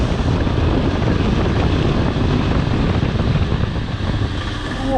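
Suzuki DR500 Dakar motorcycle engine pulling hard in third gear, a loud, steady, rough broadband roar close to the microphone with wind buffeting, held without a break and no talking.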